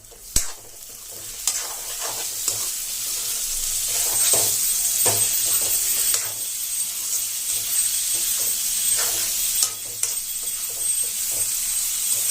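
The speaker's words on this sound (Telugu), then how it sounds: "చికెన్ బోన్స్ అనేవి ఫ్రై అవుతాయి" Chicken bones fry in a pan for chicken keema curry, a steady loud sizzle with repeated sharp scraping stirs and clinks throughout, close and continuous with no talking.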